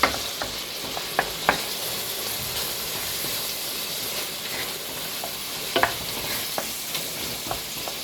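Shell-on shrimp fry in a hot pan with a steady, loud sizzle and hiss, broken by scattered sharp pops and occasional stirring clicks, with no one speaking.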